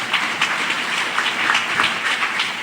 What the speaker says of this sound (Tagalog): Isang malakas na palakpak para sa mahal na Panginoon.